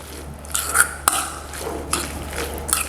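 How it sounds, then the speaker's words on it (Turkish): Salad of cracked olives, fresh thyme, olive oil and tomato paste is crushed and stirred in a bowl, producing wet squelching and scraping strokes with a few sharper clinks, close and moderately loud, without speech. "Şöyle ezerek karıştırıyorum"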